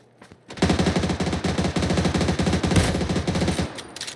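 Rapid automatic gunfire in a video game shooter, a loud sustained burst of closely spaced shots rattling for about three seconds after a brief quiet start.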